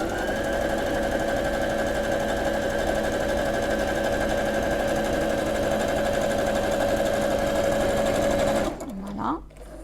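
A sewing machine overcasts a fabric edge held against the presser foot guide, running as a steady loud mechanical hum and whir for about nine seconds before it stops abruptly.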